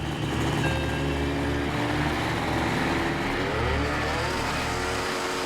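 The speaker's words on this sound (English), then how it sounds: "This time, the engine hits the butter zone." A retuned homemade jetpack engine runs hard and steady at high revs, a loud continuous roar with a buzzing low drone that holds throughout, close by and with no voices.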